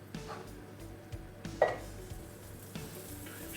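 Sausages fry in a pan with a soft, continuous sizzle, broken by a few light scrapes and clinks of a utensil against the pan, quiet and close with no talk.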